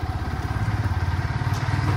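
A motorcycle engine idles close by with a steady, throbbing low rumble and a fast, even pulse. It runs alone, with no speech.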